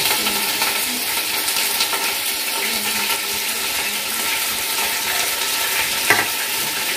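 Curry leaves dropped into hot oil for an Andhra-style country chicken pulao, giving a steady, loud, hissing sizzle that fills the whole stretch with a brief crackling spike near the end.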